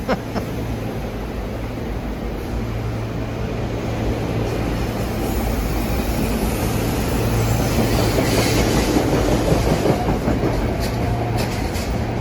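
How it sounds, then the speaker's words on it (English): A freight train rumbles past in the Philadelphia area with continuous rolling wheel noise and clatter, growing somewhat louder midway and staying steady, with a low engine hum underneath. "Monstrous train of that stuff."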